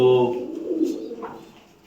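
Paired pigeons kept as pets coo softly up close, with a voice briefly heard at the start as the low, throaty calls fade out.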